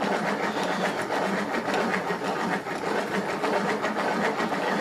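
A handheld mixer with a built-in batter dispenser whirs steadily while mixing thick pancake and waffle batter, a continuous close mechanical buzz with light rattling and no talk.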